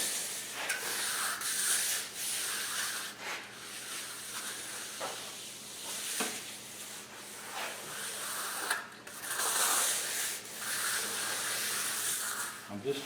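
Trowel smoothing fresh glass fiber reinforced concrete for a dining table top: repeated close, hissing scrapes in long strokes with brief pauses, and someone talks at times over the work.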